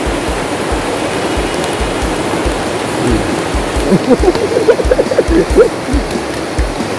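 Rain falling outdoors in steady heavy hiss, with a regular low thumping beat and a brief burst of warbling tones near the end.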